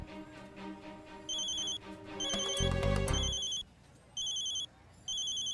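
A telephone rings in repeated bursts, with a louder jangling ring in the middle and pauses between rings.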